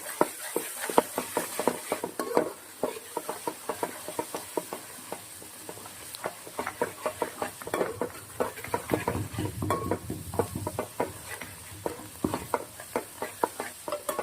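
A spoon scrapes and stirs fish curry with added salt in a pan, making a steady run of close scraping strokes over a faint background sizzle, with no talking.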